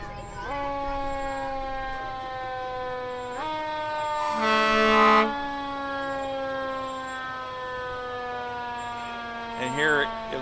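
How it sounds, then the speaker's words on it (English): Fire engine siren sounding in a county fair parade, a steady wailing tone with rising harmonics held through the clip, briefly overlaid by a louder horn blast near the middle and a warbling burst at the end. "here it looks like Baldwin Fire with engine 2 or engine 3"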